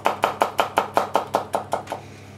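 A knife dices garlic on a cutting board in a quick, even rhythm, about ten sharp taps close by, then stops.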